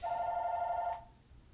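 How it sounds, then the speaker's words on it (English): A telephone bell rings in one sustained, loud trill lasting about a second before cutting off, leaving quiet room tone. "It's the phone."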